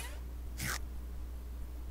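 A woman's cat in Luigi's Mansion 3 lets out a single short, sharp yowl, brief and clear against a quiet low background hum, with another faint cry starting at the very end.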